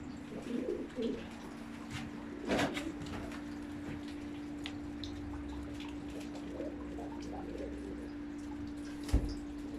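Soft pigeon coos come and go over a steady low hum, with occasional light knocks and drips in a quiet enclosed pigeon loft.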